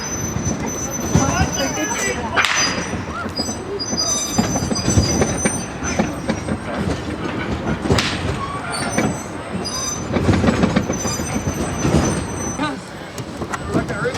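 The West Side Lumber Shay No. 9 locomotive rumbles and clatters along the Georgetown Loop Railroad with squealing metal wheels, loud and continuous, while people shout and talk over it.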